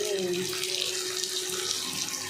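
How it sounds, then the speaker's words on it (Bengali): Water is poured into a pan of raw mango chutney as it cooks, making a constant, close splashing gush that lasts the whole moment. "তারপর দিয়ে দিলাম পরিমাণ মতো জল"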